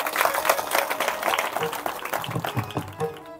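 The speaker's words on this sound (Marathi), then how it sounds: "आणि हा मृदुंगाचार्यांसाठी एकदा स्पेशल टाळ्या वाजवा" An audience at a kirtan applauds the mridang player, many hands clapping in a loud burst that gradually thins out, with some voices and a tonal sound mixed in toward the end.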